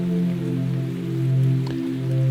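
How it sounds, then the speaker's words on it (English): Heavy rain pouring steadily down outside a thatched cottage of straw and mud, a dense continuous wash of falling water under a low droning tone, with no voices. "it started raining heavily now"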